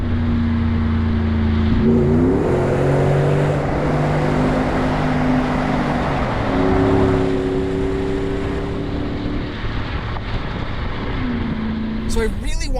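A Range Rover Sport L320 with a Magnaflow exhaust accelerates through a tunnel, its engine drone rising and falling in pitch as it revs, heard steadily from inside the vehicle.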